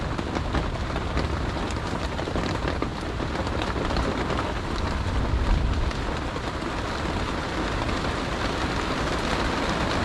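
Heavy rain pours down steadily with thunder rumbling underneath throughout, a dense, loud, continuous roar during a sudden storm with lightning.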